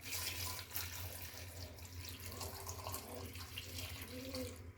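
Water runs in a steady, splashing stream into a pot, a soft continuous pour with a low background hum.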